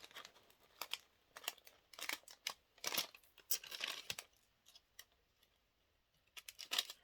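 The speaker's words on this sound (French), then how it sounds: "On va partir du milieu et on va couper en biais, comme ceci." Scissors slice diagonally through folded baking paper in a series of crisp snips and crinkles, close and quiet, with short pauses between cuts.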